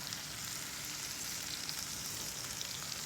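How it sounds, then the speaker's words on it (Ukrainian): Steady crackling sizzle of food frying in a pan, continuous and close, with no talking. "І хай воно смажиться далі"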